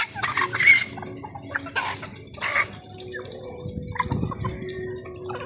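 White Leghorn chickens in a backyard laying pen, heard together with other poultry such as ducks; several birds cluck and call in overlapping bursts at close range, with a steady low murmur of flock noise underneath.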